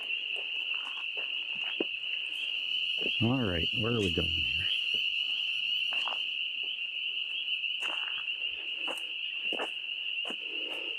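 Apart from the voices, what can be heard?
frogs croaking at night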